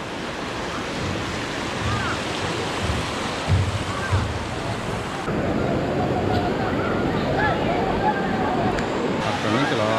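Water rushes and churns steadily on the way to a waterfall at Araku, with streams and creeks nearby. Wind buffets the microphone over the continuous flow.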